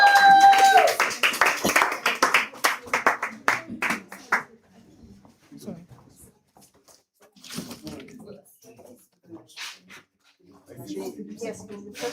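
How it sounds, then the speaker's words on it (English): An audience in a creator room session claps briskly for a few seconds before the applause tapers off, and speech with scattered sounds follows. "Give him a round of applause,"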